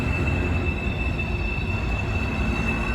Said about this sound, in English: but the freight train is still going.